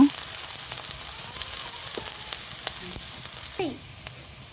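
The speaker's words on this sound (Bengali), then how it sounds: "এবার আমি 1 কাপ পরিমাণ পেঁয়াজ কুচি দিয়ে দিলাম ফ্রাই করা তেলের মধ্যেই।" Chopped onion, about a cup, dropped into hot oil for a fish curry, sizzling steadily with a few faint utensil clicks and a brief scrape near the end, close and without talk.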